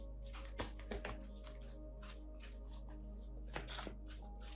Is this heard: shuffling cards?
yes